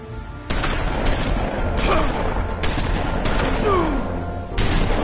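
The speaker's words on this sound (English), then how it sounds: "you think that you gotta just stop me with some freaking guns?" Bursts of gunfire crack repeatedly in The Wolf Among Us game, several loud sharp shots spaced irregularly over a dense rumbling background, with a faint whizzing sweep between volleys.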